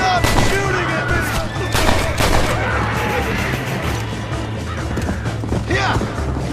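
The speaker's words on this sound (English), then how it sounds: "Stop shooting at me!" Gunfire in the Western video game Red Dead Redemption, dense rapid shots and volleys crackling continuously over a steady low rumble, with shouting voices mixed into the firefight.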